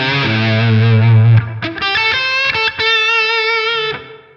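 Electric guitar through a Helix Klon overdrive model, loud and up close: a held low note gives way to a run of bright, crunchy strummed and picked notes, slightly driven, with no voices.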